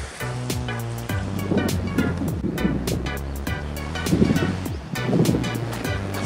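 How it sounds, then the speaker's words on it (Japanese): Gentle swell on a nearly flat Sea of Japan shore, low steady surf wash under offshore wind and microphone buffeting, with a few stronger surges and occasional sharp clicks. "海は筋のようなうねりのみ、ほぼフラットです。"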